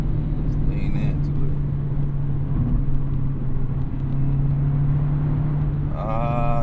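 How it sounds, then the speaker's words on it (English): Engine and exhaust of a 2024 Mazda Miata pulling hard on a road drive, a steady droning note with a brighter revving rise near the end, under constant cabin rumble. "Engine don't sound half bad either. Getting that exhaust though."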